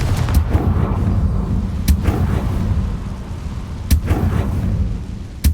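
Confringo blasting spell cast in the video game Hogwarts Legacy, sharp booming blasts repeating roughly every two seconds over a low rumbling game ambience, with no talk.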